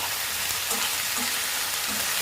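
Ivy gourd sizzles steadily in hot oil in a pan as curry leaves are stirred through it, making a dense, even crackle with faint scraping from the stirring.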